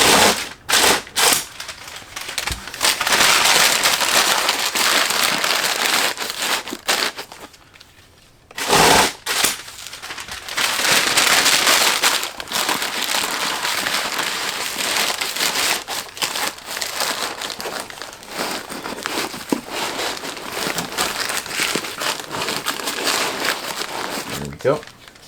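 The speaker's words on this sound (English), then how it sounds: "I'm going to fill in all these spaces with packaging paper." Packaging paper is crumpled and stuffed into a shipping box to fill empty spaces, loud crinkling and rustling in repeated bursts with short pauses, close and continuous for most of the span.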